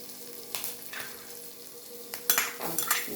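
Grated ginger and green chillies sizzling in hot melted butter in a pan, a soft steady hiss with a few sharp clinks and scrapes of a utensil against the pot, no talk.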